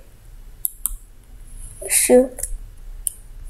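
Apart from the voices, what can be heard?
fast mouse clicking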